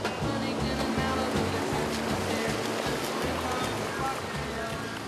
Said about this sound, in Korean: 때로는 5m가 넘는 파도가 안쪽까지 깊숙이 밀려와 사람들을 열광시키는데요.